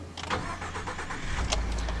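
A 2014 Ford F-150 XLT's twin-turbo 3.5-liter EcoBoost V6 cranks and catches, then settles into a smooth, steady idle, close by and fairly loud, with no talking.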